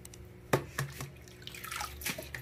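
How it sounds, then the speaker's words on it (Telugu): Gongura (sorrel) leaves are washed in water, giving a few soft, close splashes and sloshes with light drips, all faint and brief. "దీన్ని 2-3 సార్లు బాగా కడగాలండి"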